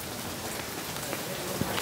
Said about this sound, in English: And it's raining a lot.